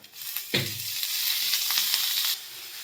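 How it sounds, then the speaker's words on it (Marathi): Onion and garlic cloves frying in oil in a pan, a steady bright sizzle with a stirring clatter near the start, continuous and close, then cutting off abruptly near the end. "कांदा भाजत असताना थोडंसं तेल टाकायचं आहे आपण त्याच्यात"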